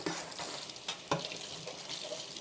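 Olive oil sizzles and crackles faintly in a hot pan, a steady hiss with a few sharper pops and stirring scrapes.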